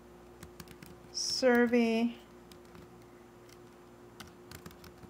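Light, scattered keyboard clicks from typing into a Google Forms survey, with a short spoken word partway through.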